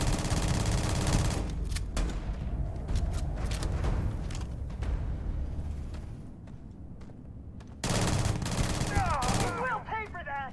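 Rapid gunfire fills a Starfield space combat battle, with dense, sustained bursts of automatic shots and booms that break off briefly and then resume loudly. A voice talks over part of the fighting.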